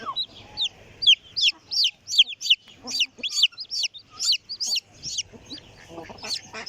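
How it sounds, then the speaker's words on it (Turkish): Hens cluck in quick, bright bursts close by, a steady run of short calls with soft peeping from chicks and faint rustling in between, in a village farmyard. "Bakın bakın tavuklar civciv çıkmış civciv."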